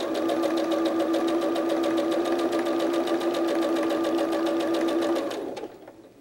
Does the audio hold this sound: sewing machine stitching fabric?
yes